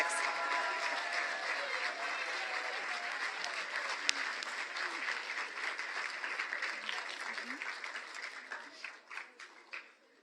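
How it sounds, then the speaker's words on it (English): A school audience applauds and cheers for newly inducted National Honor Society members, dense sustained clapping filling the room and tapering off toward the end. "You can cheer and clap for the class of 2026."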